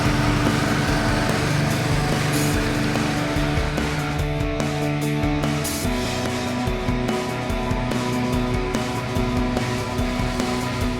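Ducati Scrambler Sixty2 motorcycle engine under way through Barcelona streets, a steady loud drone with shifting tones and rumble for the whole stretch, with no voices.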